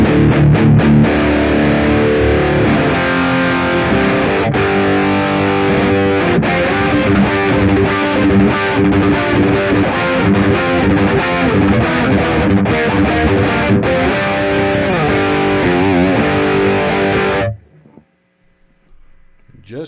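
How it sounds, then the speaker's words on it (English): An electric guitar plays through a metal distortion pedal and a Mooer Radar speaker cab simulator set to 4x12 cabs, giving a loud, thick, continuous crunch of riffs that cuts off abruptly near the end into silence. "Let's hear how it sounds with a little bit of my favorite metal distortion pedal"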